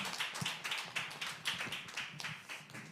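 A church congregation at a Korean education revival service claps in praise, a quiet, rhythmic patter of hand claps at a steady beat.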